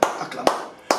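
Three sharp clapping bursts from a church congregation during intercession prayer, evenly spaced about half a second apart, fairly close and loud against a quiet background.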